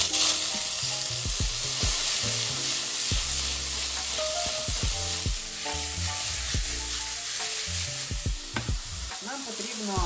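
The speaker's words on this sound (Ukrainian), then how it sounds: "І будемо зараз з вами обсмажувати наші брокколі." Broccoli fries in oil in a home kitchen pan, a steady loud sizzle running throughout with stirring clatter and scraping of the pan, no talking.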